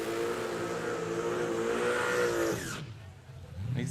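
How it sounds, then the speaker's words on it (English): A no-prep drag racing car at Warwick Dragway in Australia roars down the strip with a sustained engine tone and tire skid, then the noise cuts away abruptly before rising again at the end. "He's giving her a bit of a skid up there too"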